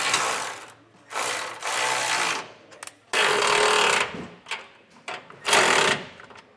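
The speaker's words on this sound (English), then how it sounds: "For your U-bolts, you want to tighten each of these nuts evenly." A ratchet tightens U-bolt nuts on an air helper spring install, rapid clicking bursts of about a second each, repeated several times with short pauses, close and loud.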